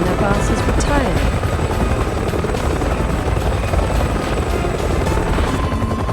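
A helicopter in the video game Resident Evil 6 fills the scene with loud, continuous rotor chop and engine roar, close and unbroken throughout.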